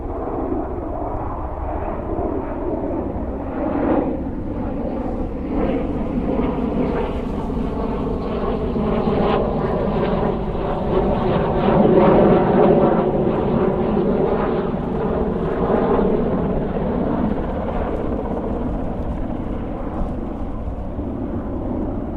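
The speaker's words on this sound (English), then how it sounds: "So let's have a look at this. F-15." An F-15 fighter jet flies past near RAF Mildenhall, a broad, roaring rumble that swells and fades gradually over about twenty seconds, steady and fairly distant, with no speech.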